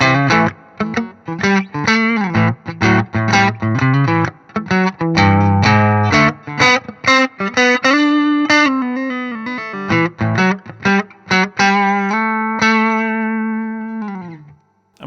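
Electric guitar played through a Boss Klon Centaur CT-3 overdrive pedal with gain set about halfway, giving warm, driven chords and single notes with light reverb, phrases separated by brief pauses, close and loud.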